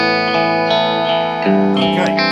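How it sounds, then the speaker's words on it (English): Clean Red Special electric guitar with delay and no phaser, a short sustained melodic phrase ringing out smoothly with echoing repeats, alone and fairly loud. "this is the clean Red Special into touring without any sort of Foxx or phaser at all"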